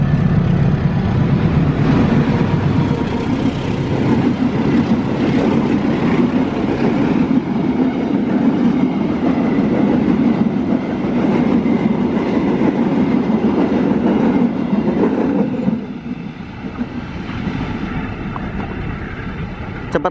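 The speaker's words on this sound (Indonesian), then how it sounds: "Cepet banget kereta api Parsel Selatan" A passenger train rushes past close by at speed near Leles station in Indonesia, loud and continuous with a rhythmic clatter of wheels, easing slightly near the end.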